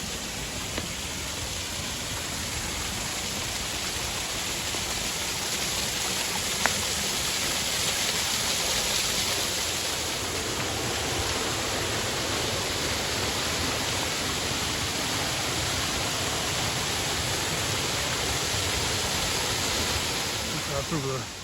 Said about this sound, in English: Cross over the waterfall.